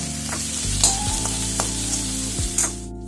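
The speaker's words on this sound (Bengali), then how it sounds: "একটু বকুলি ভাজতে দিলাম" Bokuli fries in a pan with a continuous close sizzle, a few sharp spits and clinks, and occasional stirring, no voices.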